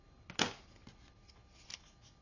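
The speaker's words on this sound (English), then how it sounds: "go ahead and trim that off now." Scissors trimming excess craft material on a nail file holder project: a few quick, crisp snips and paper rustles, close and soft, with a louder cut near the start and another shortly before the end.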